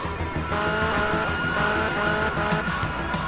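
Car brakes locking up and tires skidding in GTA Vice City, a loud continuous screech over the engine's steady roar with no talk.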